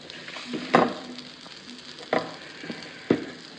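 Fish fries in hot oil with a continuous, moderate sizzle broken by three sharp popping bursts spaced about a second apart, with no talking.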